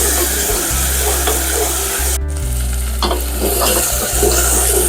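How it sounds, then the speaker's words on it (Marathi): Goat fat, liver and kidney fry in hot oil in a pan, giving a steady, loud sizzle with stirring scrapes throughout and a brief louder burst partway through, with no talk. "टाकून घेऊ आपण याच्यात चरबी काळीज आणि गुर्दा हे पण थोडंसं तेलात फ्राय करून घेऊ"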